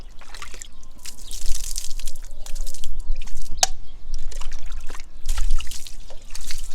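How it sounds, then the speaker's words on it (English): Water drips and trickles onto a car wheel and brake caliper with occasional splashy bursts, close by and fairly loud, with no voices. "Just throw some water up in there."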